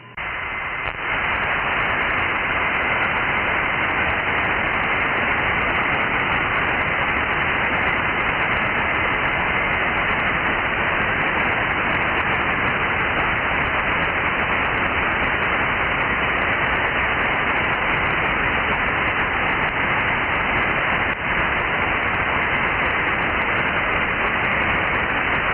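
An Icom IC-9700 amateur radio receiver with its preamp running hisses with loud, steady static on the 2-metre band in USB mode, unbroken for the whole stretch with no voice coming through.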